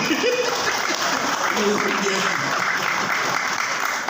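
Congregation at a church worship service applauds, a dense, continuous wash of clapping from a large crowd that holds steady throughout, with voices and a little laughter mixed in.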